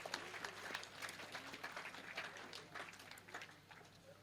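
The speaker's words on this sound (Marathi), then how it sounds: "एकदा त्यांच्यासाठी टाळ्या वाजवा सगळ्यांनी" Audience at a credit society's anniversary event claps steadily for several seconds, a dense patter of many hands heard faintly and at a distance, with a murmur of voices underneath.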